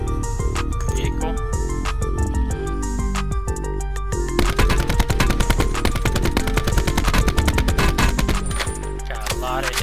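In Call of Duty Blackout, rapid automatic gunfire rattles into a vehicle, with crisp metallic pings and clanks from the hits layered over a steady bed of game sound.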